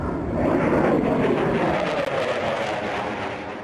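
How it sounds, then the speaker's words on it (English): Ukrainian military jet roaring overhead in wartime, a loud, dense broadband rumble that holds steady for several seconds with a slow swell and gradual fade, no voices. "A Ukrainian jet roars overhead."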